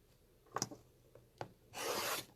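Quilt fabric is trimmed with a cutting tool and a Creative Grid log cabin trim ruler: a few soft close taps, then a short rasping slice of about half a second.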